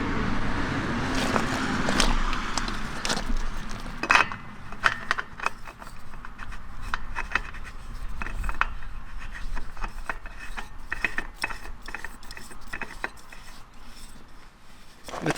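An oil filter being screwed by hand onto a Honda engine on a Bad Boy mower, with repeated scraping, rubbing and light metallic clicks over roughly fifteen seconds at close range, with no speech.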